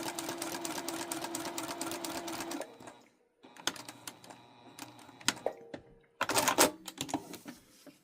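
Domestic sewing machine stitching foundation paper-pieced quilt scraps on paper along a line, running in close bursts of rapid mechanical chatter with short pauses and a few back stitches between runs.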